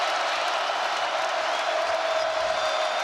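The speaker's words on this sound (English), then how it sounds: "This crowd's into the ball game now" The crowd at an NC State men's basketball home game against Miami roars steadily, a broad, sustained wash of cheering and applause with no break, and a commentator talks underneath.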